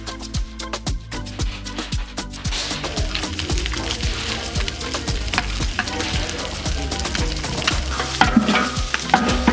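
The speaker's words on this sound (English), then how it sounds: "we put some cooking oil in the meat and fry them a little bit" Beef sizzling in cooking oil in a pot while making pilau, steady crackling fry punctuated by repeated scraping and clattering stirs of a utensil, close and fairly loud.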